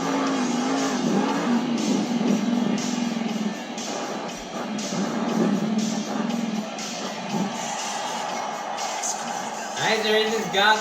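A Monster Jam monster truck on BKT tires roars through an arena show in Greensboro, NC, its engine revving in a steady, loud, dense roar with surging accents, blended with crowd noise and an announcer's voice.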